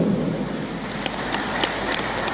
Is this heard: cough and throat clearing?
no